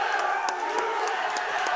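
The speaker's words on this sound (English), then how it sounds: "the whole arena is chanting USA, USA" A packed arena crowd roars and cheers without letup after the first American champion wins the Choptober finals, a loud, dense wall of voices with shouts and whoops rising through it.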